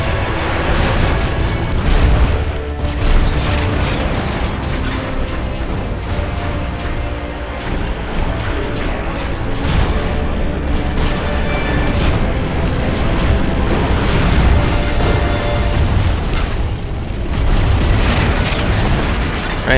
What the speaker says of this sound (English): I guess Starscream can shoot down these with one shot on his vehicle mode